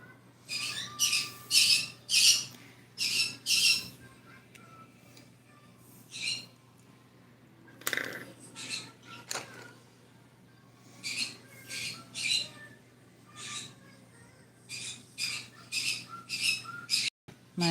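Loud, harsh bird squawks come in repeated bursts, some in quick clusters, with quieter calls and chirps between them and a low steady hum underneath.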